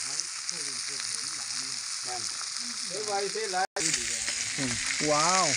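Food sizzles steadily in a new pan, with a bright continuous hiss close by while someone talks over it with animated speech.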